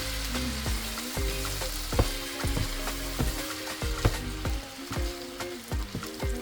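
Fried rice with oyster sauce is stirred in a hot pan, giving steady sizzling broken by repeated sharp scraping clacks of a utensil at an uneven rhythm, close and fairly loud over background music.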